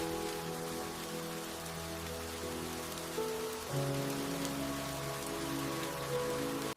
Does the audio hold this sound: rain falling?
yes